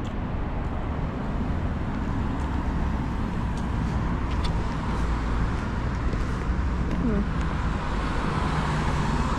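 Continuous road traffic noise, a dense steady rumble of passing vehicles with no breaks, fairly close and uniform in loudness throughout.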